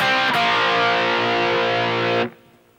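A heavily distorted electric guitar plays the second phrase of a song, a dense sustained riff ringing loud and close for about two seconds before cutting off abruptly into silence.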